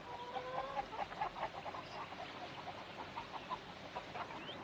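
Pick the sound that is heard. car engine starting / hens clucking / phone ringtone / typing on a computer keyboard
hens clucking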